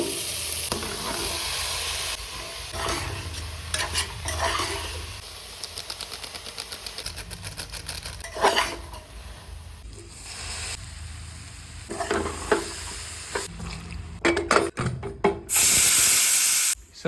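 A potato, carrot, pea and tomato curry is stirred and fried in a pan, with intermittent scraping and clattering over a low sizzle, ending in a loud burst of steady hiss.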